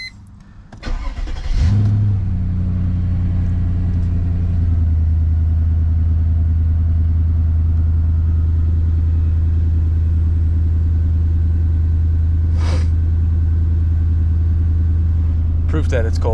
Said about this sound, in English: Always should idle up, and then it'll idle down here in a second once it's warm